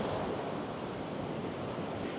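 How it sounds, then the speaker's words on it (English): Waves rolling in along the rocky Mendocino coast in California, a steady broad roar of surf mixed with wind buffeting the microphone, with no talk. "Oh, another big wave coming, I see it."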